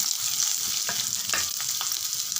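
Sliced onions sautéing in a pan for murungakkai pachadi, a steady close sizzle with a few soft stirring scrapes and taps, no voices.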